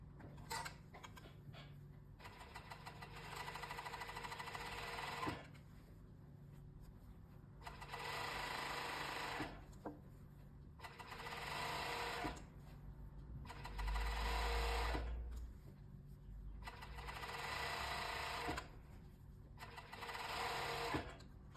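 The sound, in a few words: sewing machine stitching the hem of shorts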